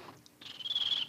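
A voice imitating a bird, a brief faint whistled chirp rising into a high sustained trill.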